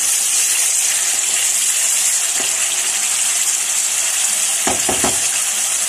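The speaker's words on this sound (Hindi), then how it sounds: "अब हम इसको अच्छा सा भूनेंगे। ऑयल सेपरेट होना शुरू हो गया है।" Chicken kofta masala fries in hot oil in a pan, a loud continuous sizzle with a few brief stirring scrapes near the end.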